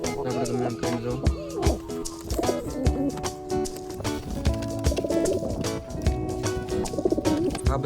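Pigeons kept in pairs coo continuously from close by, their layered, throaty calls overlapping with scattered soft chirps and rustling wingbeats throughout.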